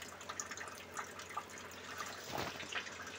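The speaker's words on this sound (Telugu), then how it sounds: "బాయిల్ అవుతుంది ఫ్రెండ్స్." Meal maker (soya chunks) and rice for biryani boil in a pot of water, giving a low, steady bubbling with faint scattered pops, close and quiet throughout.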